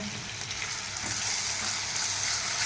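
Hot oil crackles and sizzles steadily as spices temper in a pan for a curry with onion, ginger-garlic paste, tomato, coriander and curry leaves, a continuous close frying hiss with no talk.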